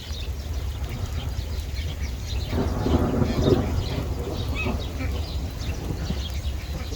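Thunder rumbles low and deep beneath steady rain on a farm pond, swelling in the middle before fading back into the constant patter.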